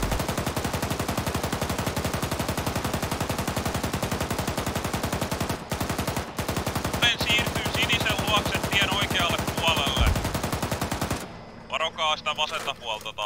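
Sustained machine gun fire in the military game Arma 3, coming from across a field, roars as a loud, unbroken stream of rapid shots for about eleven seconds before stopping abruptly, leaving a few quieter sounds.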